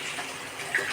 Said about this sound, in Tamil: தண்ணி ஊற்றிடும்.